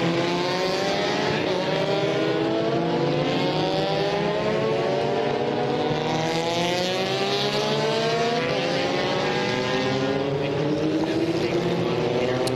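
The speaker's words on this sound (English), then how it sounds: "we're expecting that safety car to pull off and let us go racing again" Vintage race cars at Circuit of the Americas accelerate as racing resumes after a safety car in an SVRA Group 9 race, layered engine notes rising and overlapping steadily throughout.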